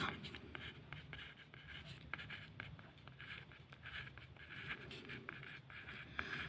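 A pen writes on paper while filling in a data table, a steady close scratching with quick repeated strokes and small taps, quiet and continuous with no talking.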